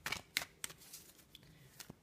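Tarot cards are dealt out one after another onto a surface, producing a handful of soft, quick papery flicks and slaps in close, quiet succession.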